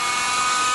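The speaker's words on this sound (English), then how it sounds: "This is a good airplane to learn to fly 3D on." A simulated RC 3D aerobatic airplane motor in a flight simulator gives a steady, high-pitched electric whine, held constant and close throughout.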